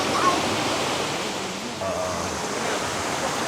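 Waterfall on a river beside a campsite at Hulu Rening, Selangor, pours a constant wash of rushing water, fairly loud and near, continuing without break and without clear speech over it.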